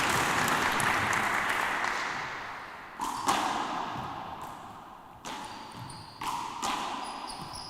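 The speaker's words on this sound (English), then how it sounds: "the round of applause by the audience here" Audience applause at an All-Ireland wallball championship match: a steady wash of crowd clapping at moderate distance, broken by several sharp thuds of the ball striking the wall.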